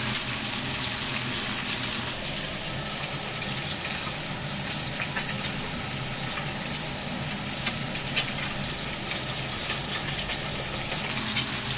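Fish frying in oil in a Filipino home kitchen on a rainy day, a steady dense sizzle and crackle running without pause at close range, with faint watery splashes mixed in and no talking.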